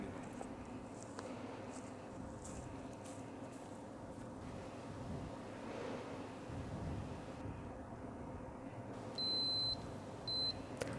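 A high electronic beep from a MOSKIT perimeter sensor alarm sounds in two short bursts toward the end, over a faint, steady background hiss.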